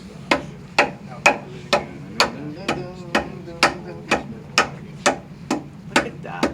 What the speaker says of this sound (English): Drive it in there, man. You got the hammer. Come on. Beat it.